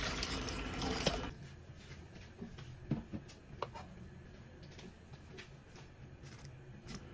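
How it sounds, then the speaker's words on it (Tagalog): About four cups of water poured into a cooking pot for a fish tinola, starting as a loud splashing gush that soon fades to quieter trickles and scattered small knocks nearby. "Maglagay na po ako ng tubig,"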